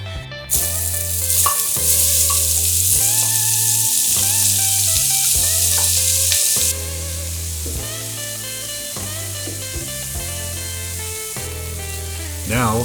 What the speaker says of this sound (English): scrape up all the brown bits, and add the onions to the skillet